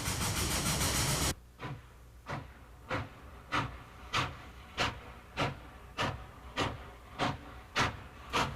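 A 1923 Baldwin-built Norfolk and Western steam locomotive, number 133, hauling a local freight and gathering speed, a brief blast of steam followed by steadily quickening, evenly spaced exhaust chuffs at moderate distance.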